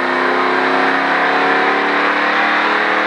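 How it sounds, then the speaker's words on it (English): A stock car engine roars loud and close inside the cockpit as throttle is applied on an oval track, a sustained high, strained drone holding steady throughout without speech. "now start to roll on the throttle"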